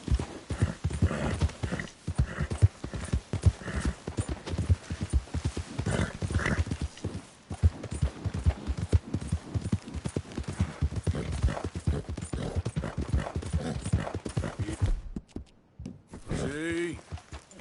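Horse hooves clip-clop rapidly and rhythmically in the video game Red Dead Redemption II, a steady galloping beat with occasional snorts and a whinny near the end, and a voice speaks briefly.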